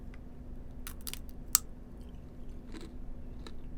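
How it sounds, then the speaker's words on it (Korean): Crunchy bites and chewing on the hard sugar-glass coating of tanghulu, with a few sharp cracks and crackles over a low background hum, close up with no talking. "설탕 유리만 벗겨 먹어"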